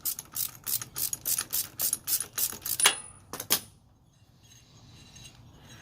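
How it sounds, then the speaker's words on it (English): A ratchet wrench loosening a motorcycle spark plug, giving a quick run of close, loud clicking strokes that stops, then a short final burst of clicks before near silence. "Grab yourself the ratchet that fits that spark plug. Simply remove that spark plug."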